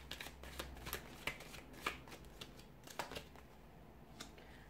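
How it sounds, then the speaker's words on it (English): A deck of tarot cards is shuffled close up, a run of crisp riffling flutters and soft taps coming in uneven bursts, with no talk. "we'll give the cards a shuffle and see what they're predicting for you here."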